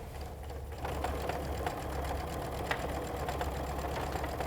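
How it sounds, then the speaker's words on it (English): A sewing machine chain-stitching half-square-triangle quilt pieces runs steadily at close range, a continuous motor hum with a fast, even stitching rhythm and no talking. "Because then you can just go to your sewing machine and get this done in no time."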